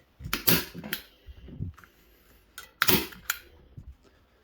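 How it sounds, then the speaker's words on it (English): Several sharp staple-gun shots fastening canvas to a wooden stretcher frame at home, sounding as a few loud, separated clacks with brief pauses and rustling handling between them, close and without talk. "And then staple gun."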